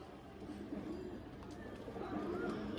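A male pigeon, a flown bird held in the hand, gives a low soft cooing that carries on steadily at moderate distance, with faint background noise throughout.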